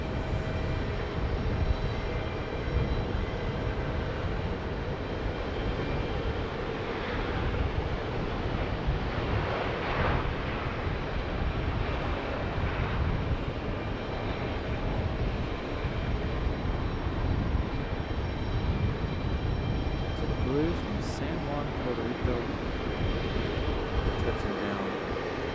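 An Air France jet going around at Raleigh-Durham International Airport gives a sustained, fairly loud engine roar that stays broad and even for the whole stretch, with no voices present.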